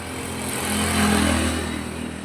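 A small scooter engine hums steadily nearby, swelling slightly in the middle before settling back to an even drone.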